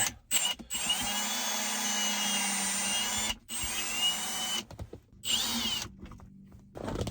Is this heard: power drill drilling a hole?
yes